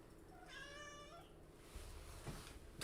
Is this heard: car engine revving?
no